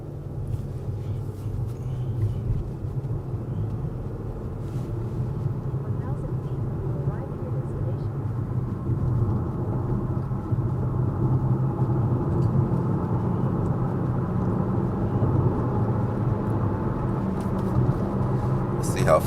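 A 2025 Nissan Kicks with 141 horsepower accelerates up a highway on-ramp, heard from inside the cabin as a steady, building engine and road rumble that swells slightly over time, with faint talk mixed in.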